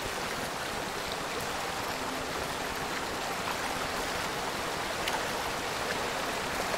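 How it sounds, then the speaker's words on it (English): A large waterfall in the forest survival game Among Trees roars as a constant dense rush of water, loud and steady from start to finish with no speech over it. "That's going to be a big waterfall."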